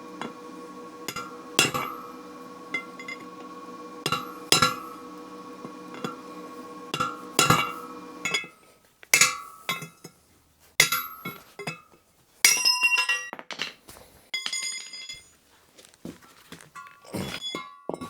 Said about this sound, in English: Get your big girl hammer.